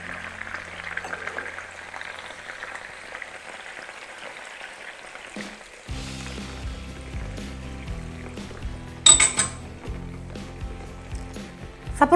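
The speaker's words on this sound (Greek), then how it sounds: "Θα σβήσουμε τα κρεμμύδια με λίγο κόκκινο κρασί, με μισό ποτηράκι." Chicken and onions frying in a clay pot for Greek chicken stifado, a soft sizzle that swells sharply when half a small glass of red wine is splashed in, followed by louder hissing and a burst of bubbling near the end.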